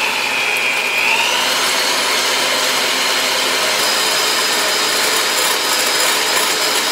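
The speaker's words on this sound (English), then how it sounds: "I'm going to grab my mixer and I want to start mixing these up until I get stiff" An electric hand mixer whipping six egg whites toward stiff peaks, a steady, loud whirring drone that holds constant throughout with a faint pitch shift as the beaters work, no voices.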